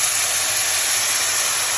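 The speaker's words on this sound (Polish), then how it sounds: "Jak ryż zacznie nam lekko skwierczyć na patelni, podlewamy go rosołkiem." Rice fries in an oiled frying pan for mushroom risotto, giving a steady, dense, fairly loud sizzle and hiss with no talking over it.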